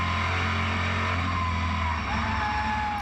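Race cars of the 2014 NWES series roar along a straight in a steady, loud engine drone with sustained tonal whine and a slight pitch shift as they pass.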